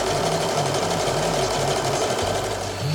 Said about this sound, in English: I'm going to stitch it now.